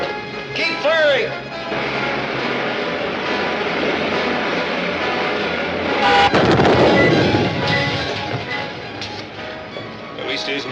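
Weapons fire in a sci-fi film serial with rumbling blasts and bursts over a steady roar, including a heavy explosion-like burst midway, with dramatic music and voices mixed in.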